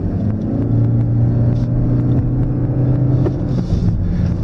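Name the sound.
car pulling away from a standstill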